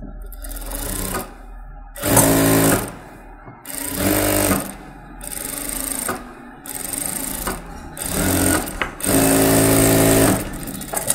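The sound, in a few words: sewing machine stitching a blouse lining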